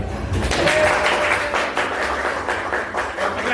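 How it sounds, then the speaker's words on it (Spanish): One person claps their hands, a loud, close run of sharp claps at a quick, even pace, with no voice over them. "Y ahí aplaudo."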